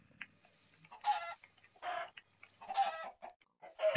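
A video game chicken clucks in several short bursts with gaps between them, close and fairly clear against a quiet background.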